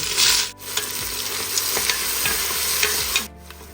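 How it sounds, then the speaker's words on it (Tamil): Onions sizzle and crackle steadily in hot oil, with occasional stirring scrapes, close up and continuous without talk. "நல்லா வெங்காயம் நல்லா வதங்கிடுது"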